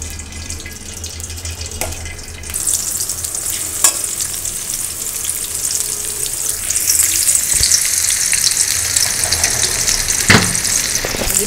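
Onions frying in a pan for vegetable noodles, a steady crackling sizzle that grows louder and fuller after the first few seconds, with occasional sharp clicks of stirring against the pan and no talk.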